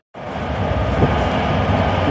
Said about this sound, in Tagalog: Ang bilis ng tren.